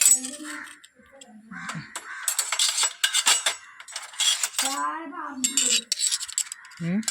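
Metal spoons clink and rattle against dishes in short bursts, with people talking throughout.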